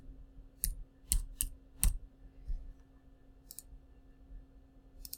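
Scattered key clicks come from a computer keyboard as a nickname is typed, sharp and close, in an irregular rhythm with quiet gaps.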